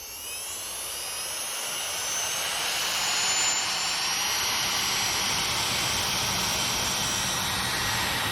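A rewound Combove 4225 brushless motor with a double-star, seven-turn winding spins up on a test bench with a speed controller attached: a loud, steady mechanical whine that builds over the first couple of seconds and then holds, with no voices.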